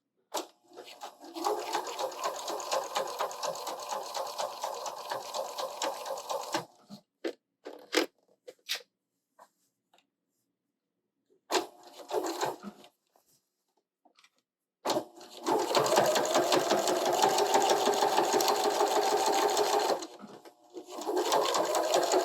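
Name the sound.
sewing machine stitching quilt binding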